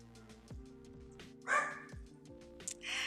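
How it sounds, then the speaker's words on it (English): A house dog barks indoors during a live stream, several deep woofs spaced out over steady background hum, moderately loud and fairly close. "Try to get my dog to stop barking because he's being a pain in my booty right now."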